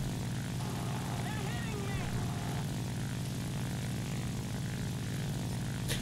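Propeller aircraft engine drones steadily in the War Thunder flight game, a continuous mid-loud roar with faint whistling game effects layered over it.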